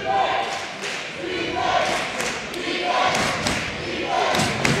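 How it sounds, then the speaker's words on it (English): Crowd noise at a high school basketball game between Worcester Academy and MacDuffie School, a steady roar of spectators with rising cheers and occasional thuds from the court, loud and continuous throughout. "the crowd's getting into it a little bit, looking for defense"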